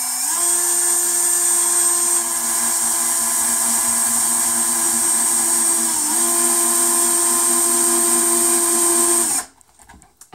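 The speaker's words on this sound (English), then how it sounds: "I'm going to go ahead and make my drill hole." A power drill bores through the wooden frame of a canvas while making a resin geode piece. It gives a loud, steady high whine for about nine seconds, with one brief dip in pitch partway through, then cuts off abruptly.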